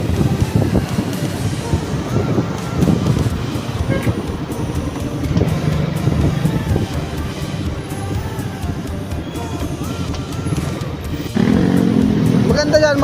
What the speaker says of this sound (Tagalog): Yan o, traffic tuloy.